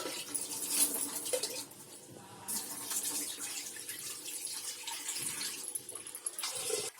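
Dal lentils rinsed in water in a home kitchen while preparing a Konkani-style meal, with running water splashing and swirling steadily at close range, growing louder in a few bursts.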